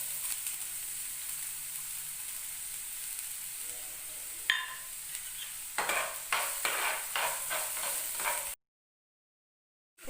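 Chopped onions sizzle in a little oil in a pan, a steady hiss that turns into scraping stirring strokes, each stroke repeating in a quick rhythm before the sound cuts off abruptly.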